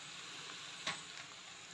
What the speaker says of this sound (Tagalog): Gisa-gisahin natin ito.